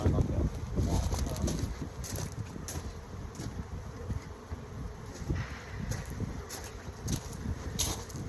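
Honeybees buzz around an open hive during an outdoor inspection, a low droning hum with wind rumbling against the microphone and occasional bursts of handling noise.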